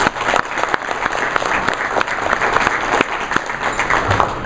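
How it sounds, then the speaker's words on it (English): Luncheon audience at the New Orleans Quarterback Club awards gives a round of applause, loud continuous clapping from many hands with a few sharp individual claps standing out, steady for the whole stretch. "I'll give them a little round of applause for what they do for us"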